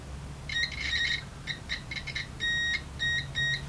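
A multimeter in continuity mode beeps as its two probes touch, giving a run of sharp electronic tones, short chirps first and then longer steady beeps, loud and alone over a low background hum.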